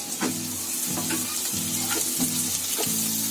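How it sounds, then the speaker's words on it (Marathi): Onion sizzling in hot oil in a pan for a hot and sweet chicken starter, a constant close crackling fry with a low tonal hum and repeated scraping stirs about every half second. "आता तो कांदा जरा चांगला फ्राय करून घेते"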